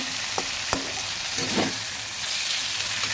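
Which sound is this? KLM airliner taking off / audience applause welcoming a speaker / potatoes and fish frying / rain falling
potatoes and fish frying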